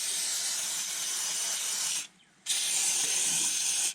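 Corrosion inhibitor sprayed from an aerosol can onto a snowblower being stored for summer, a steady close hiss for two seconds, a brief pause, then another continuous burst.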